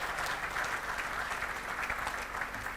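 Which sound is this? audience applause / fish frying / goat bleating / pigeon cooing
audience applause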